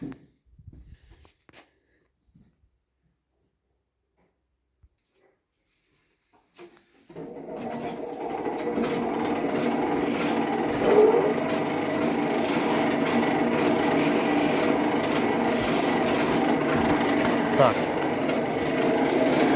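A chaff cutter starts up after a quiet stretch and runs steadily, cutting freshly mown oats into chaff for horses, a loud continuous mechanical whir with a few short catches.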